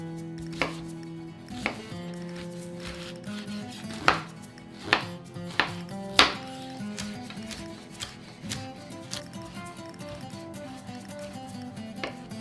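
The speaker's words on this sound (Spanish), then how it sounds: "Empezamos picando la verdura a grosso modo." Knife chopping vegetables roughly on a board for oxtail stew in red wine, a run of distinct sharp knocks in irregular rhythm, some louder than others, close and clear with a faint musical background and no talking.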